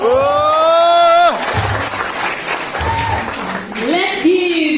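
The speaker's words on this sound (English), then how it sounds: "Let's give Mr. Tapan Sinha a huge round of applause" An audience applauds after a training session talk by Tapan Sinha in Imphal: a burst of clapping and crowd noise under loud electronic sweeping tones and some voices, lasting a few seconds.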